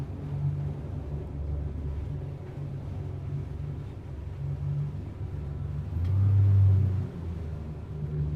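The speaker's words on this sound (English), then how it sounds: "just giving a little bit of throttle" A low, steady engine rumble from a Four Winns TH36 catamaran, swelling briefly into a louder throaty surge as throttle is added, then settling back to idle.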